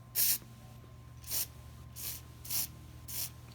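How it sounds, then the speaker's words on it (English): Five short hissing bursts of carburetor cleaner aerosol spray into a Yamaha V-Star 1100 carburetor, close and sharp, spaced irregularly against a low steady hum. "just get some carb cleaner right in here, and should spray"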